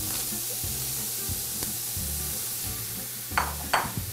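Onions, asparagus and other vegetables sizzle softly in a pan, with a quiet crackle under scraping and stirring clatter and two sharper hissing bursts near the end, no voices.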